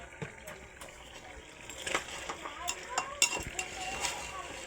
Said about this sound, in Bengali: অল্প একটু চিনি দিচ্ছি, একটু মিষ্টি মিষ্টি ভাব আসার জন্যে।